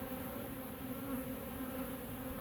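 Honeybees buzz steadily in an open hive during an inspection, with small hive beetles present; the hum is close, dense and continuous, an even drone without pauses or talk.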